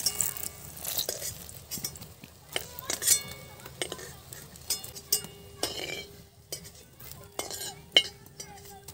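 Fried eggplant slices being lifted out of a pan of hot oil with a metal utensil, producing light clinks, scrapes and taps at irregular intervals, close by and with faint background sizzle.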